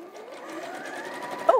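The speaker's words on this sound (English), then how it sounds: "we are going to sew the ends of these over just to make them nice and neat" A sewing machine runs steadily, stitching over the folded-over ends of fabric, with a continuous close whirring hum and a slight bump in loudness just before it stops.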